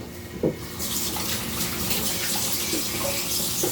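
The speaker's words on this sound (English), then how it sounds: "Wash the hands." Hands are washed under a running kitchen tap, water splashing and gushing steadily and close, loud and continuous, with no talking.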